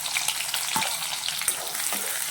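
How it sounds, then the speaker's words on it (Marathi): Soft, continuous crackling sizzle of onion frying in hot oil with cumin and mustard seeds, close by, with no talking. "दोन मिनटं कांदा तळण्यासाठी आपल्याला द्यायचे आहे"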